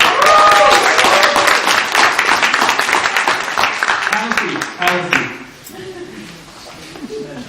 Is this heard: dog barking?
no